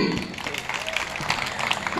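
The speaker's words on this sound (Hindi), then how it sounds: "अगर बात अच्छी लगी है तो बजाओ ताली" Audience applause at a Hindi comic poetry gathering (hasya kavi sammelan), a dense steady wash of many hands clapping across the whole stretch, with voices mixed in underneath.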